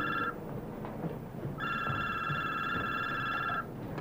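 A telephone rings in two bursts, a short one and then a longer trilling ring, over a low background hum.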